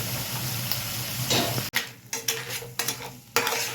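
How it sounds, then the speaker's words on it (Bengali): Crab masala cooks in a pan as chili powder goes in, with a soft steady sizzle and then a run of sharp spoon scrapes and knocks against the pan, close and fairly quiet. "এখন এই কষানো মাছটার মধ্যে 1 চামচ লঙ্কার গুঁড়ো দিয়ে দেবো"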